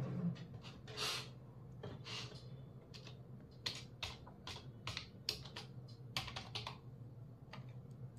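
Someone types a force number into a computer form, producing soft, uneven keystroke clicks, some in quick clusters and others spaced out, close and faint over a low steady hum.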